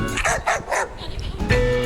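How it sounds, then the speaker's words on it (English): A dog barks loudly and close, giving a quick rhythmic series of about four barks followed by a couple of rougher, higher yelps. "the dog barked loudly"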